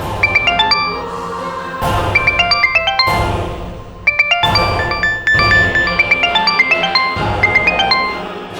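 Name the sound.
telephone ringing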